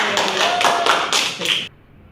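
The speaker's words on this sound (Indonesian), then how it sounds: "Beri tepuk tangan untuk Ayah" A class clapping hands during a language-teaching lesson, a loud, close burst of overlapping claps lasting under two seconds that stops abruptly, leaving near silence.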